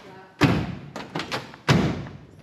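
The trunk lid of a 1964 Chevrolet Malibu SS thuds shut twice, with solid close slams spaced about a second apart and lighter knocks between them as the lid is worked.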